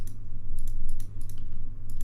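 Rapid computer keyboard key presses, loud and close, a quick run of sharp clicks with a steady low hum beneath.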